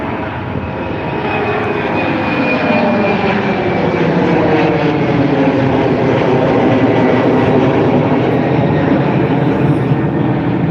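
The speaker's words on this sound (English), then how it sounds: "Here we have the KLM flight to Amsterdam." A KLM airliner bound for Amsterdam on its takeoff roll at Dublin Airport, a loud, sustained jet engine roar that builds and holds throughout.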